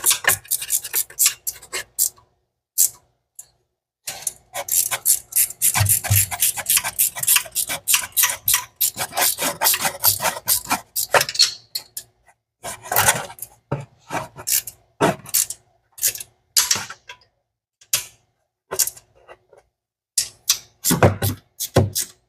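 A wrench snugs down the intake manifold bolts on a 1983 Mustang GT Foxbody with a big-block engine: irregular metallic ticking and ratcheting clicks in bursts, close up, with short pauses between runs.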